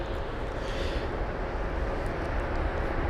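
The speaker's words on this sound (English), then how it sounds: "Not too sure if you can hear the roaring of that United's engine." A United Boeing 787 airliner's engines roar at London Heathrow, heard as a steady, broad, distant rumble throughout with no voices.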